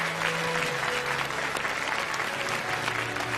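A studio audience claps to welcome a guest onto the stage at a televised award ceremony, steady, dense applause filling the room from start to finish.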